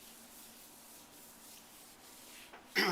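A gloved hand rubs sealer across a granite surface, giving a soft, steady, quiet rubbing hiss close by, then a louder brush or scrub at the very end.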